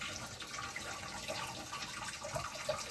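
Starchy pasta cooking water pours out of a pot into a colander, a soft continuous splashing and gurgling rush of liquid, faint and steady with no talk.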